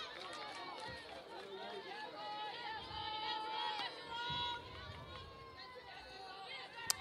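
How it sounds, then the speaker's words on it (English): Crowd at a college softball game murmurs and chatters at a distance, a soft steady babble with scattered calls, while a commentator talks over it. "Good crowd on hand."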